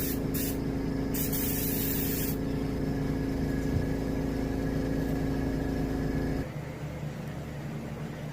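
Silver metallic paint hisses steadily from an airbrush onto a striped bass mount, with a continuous compressor hum beneath it. A few short bursts sound early on, and the hiss drops off near the end.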